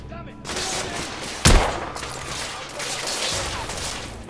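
Heavy gunfire in the video game The Order 1886 on PS4, a sustained loud rattle of many overlapping shots with one sharp, louder blast near the middle, with no talking over it.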